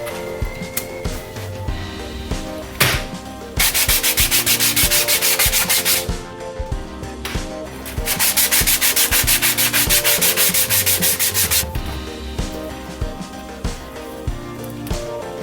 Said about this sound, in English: I guess I'll cut to me sanding